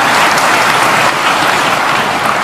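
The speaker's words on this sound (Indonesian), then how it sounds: "Adapun tepuk tangan yang kurang semangat saya maklum karena lapar semuanya." Steady audience applause at a religious lecture, a dense continuous wash of clapping from many hands, loud and even throughout with no talk over it.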